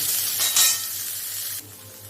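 Chopped vegetables hit a small amount of hot oil in a wok for chicken rolls, giving a loud, bright sizzle that swells briefly and then settles into a steady, quieter frying hiss.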